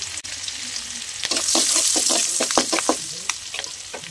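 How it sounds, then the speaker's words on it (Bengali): Three chopped onions frying in a pan, a loud hissing sizzle that swells as they go in, followed by a quick series of scraping stirs, close up with no voices. "এখন দিয়ে দিচ্ছি এখানে 3টা পেঁয়াজ কুচি। পেঁয়াজটাকে ভালো করে ভাজবো।"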